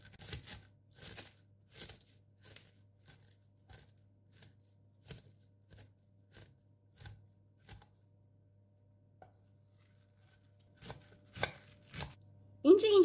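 A knife chops through cabbage on a board in a steady series of crisp strokes, pausing before a few final chops, with a voice starting at the end.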